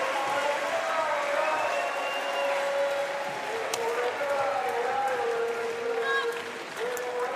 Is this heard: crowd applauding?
yes